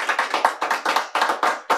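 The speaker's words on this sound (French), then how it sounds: "J'entends des applaudissements" Bursts of hand clapping from a small audience at an evening event featuring a couples' game, coming in short uneven clusters, fairly close and moderately loud, with no talk over it.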